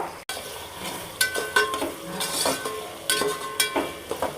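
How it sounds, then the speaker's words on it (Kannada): Carrots and peas stirred and fried in a pan, a soft steady sizzle broken by repeated scraping strokes of a spoon against the pan, close and moderately loud with no talk. "ಕ್ಯಾರೆಟ್ನ ಮತ್ತು ಬಟಾಣಿ ಇದನ್ನೆಲ್ಲ ಸುರ್ಕೊಬೇಕು. ಇವಾಗ ಎಲ್ಲ ಕಲಿಸ್ಕೊಡ್ಬೇಕು."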